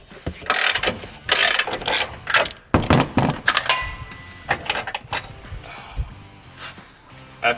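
A ratchet loosening a front control arm bolt on a 2014 Chevrolet Caprice PPV, rapid clicking bursts in several repeated strokes, close and loud, with short pauses between pulls.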